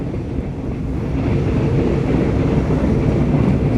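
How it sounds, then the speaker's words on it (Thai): A train on the Maeklong railway line slows as it approaches the Bang Tho Rat halt in Samut Sakhon, a loud, continuous low rumble of wheels and carriages mixed with wind buffeting the microphone, with no talking. "ตอนนี้รถไฟชะลอนะครับผม"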